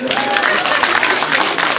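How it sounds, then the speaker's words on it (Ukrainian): A brief burst of loud, dense applause from a concert audience at a show, steady clapping that fills the whole moment. "аплодисменти"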